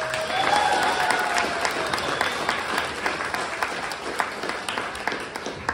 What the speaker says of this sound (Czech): Potlesk pro ně, prosím.